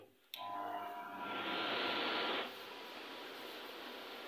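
An Iranian room cooler running at full speed gives off a soft, steady whooshing hiss of moving air. It starts after a short pause, swells, then settles to a lower level.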